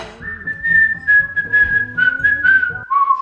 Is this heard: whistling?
yes